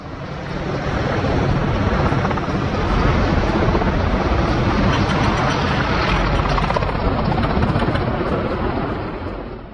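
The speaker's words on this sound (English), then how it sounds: "As one of the world's most recognized combat helicopters, the AH-64 Apache continues to prove its reliability in a variety of missions." Loud, continuous rotor and engine roar from an AH-64 Apache combat helicopter, steady throughout with a smooth swell and fade at the edges.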